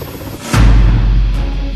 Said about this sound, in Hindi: इस वक्त Mi-17 हेलीकॉप्टर को इसीलिए चेक किया जा रहा है।